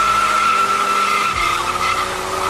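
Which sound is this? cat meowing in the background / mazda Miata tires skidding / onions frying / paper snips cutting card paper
mazda Miata tires skidding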